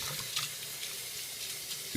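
Tap water runs steadily into a sink during a Yorkie's bath, a continuous close hiss at moderate level, ending with a soft thump.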